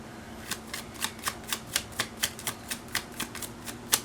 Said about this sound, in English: let's get some card for them as well.